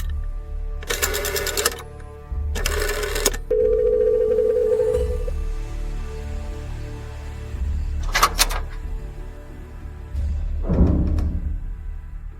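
An old telephone is dialed, and its bell rings in several separate bursts, each brief and close, with a low hum and faint clicks between them.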